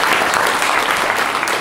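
Loud, dense crowd applause at a French political rally in Le Mans, a continuous wash of many hands clapping together at full strength, close and unbroken throughout.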